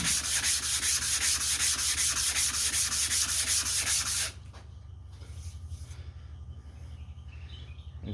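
The other side of an old one-dollar vintage sharpening stone is rubbed flat with fast, loud, rhythmic grinding strokes for about four seconds, then it falls to quiet background sound.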